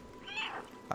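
A single short cat meow from the video game Stray, soft and slightly electronic, rises and falls once and is followed by a brief click.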